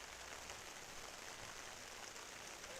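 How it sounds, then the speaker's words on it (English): Heavy rain pours steadily over an outdoor championship ultimate frisbee game in Syracuse, a dense, continuous hiss with no voices. "The rain coming down hard here in Syracuse."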